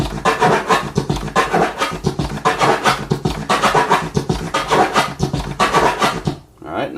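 M-flare turntable scratches cut over a drum sample, rapid rhythmic scratching bursts layered with beats, loud and continuous for several seconds before briefly dropping out.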